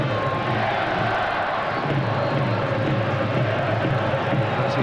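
A football stadium crowd at an international friendly between England and South Africa roars in a steady, loud, distant din of cheering and shouting that holds at a constant level with no pauses.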